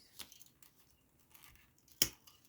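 Scissors snip through rolled paper tubes in a weaving craft, giving one sharp close cut near the end after a fainter click at the start, with quiet room noise in between.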